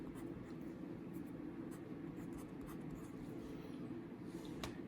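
Chalk or marker writes on a board in a quiet room, producing faint, scattered scratchy strokes over a low steady hum.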